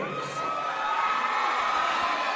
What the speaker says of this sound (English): You hear the crowd pop for him.